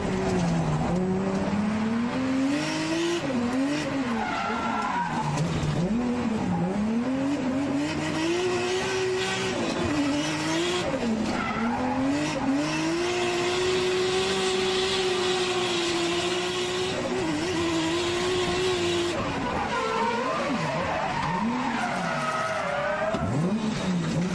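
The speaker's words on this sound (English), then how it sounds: "Nothing like the sound of a big open wastegate on a 2J." Four-door sedan with a 2JZ engine drifting hard at a circuit west of Nagoya: a loud, continuous engine note rising and falling with revs, open wastegate whoosh and tire squeal throughout, close and sustained, no talk.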